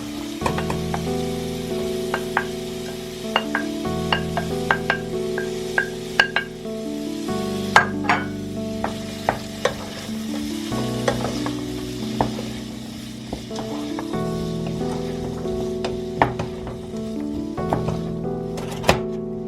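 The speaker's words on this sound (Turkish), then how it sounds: "Bunlar da güzelce kavrulsun." Onions, carrots and potatoes for chicken soup frying in a pot, a continuous close sizzle broken by stirring and occasional clinks of a utensil against the pan, with no talking.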